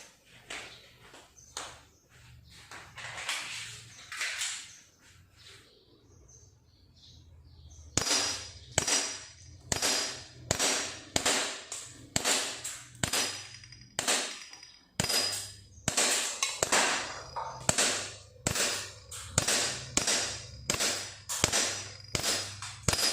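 A BB gun fires at glass bottles at close range, with a scattered string of sharp cracks followed by a long, steady run of rapid, evenly spaced shots.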